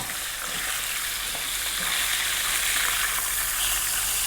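A whole tilapia fries Chinese style in hot oil, giving a steady, close, dense sizzle that holds level and swells slightly toward the end, with no talk over it.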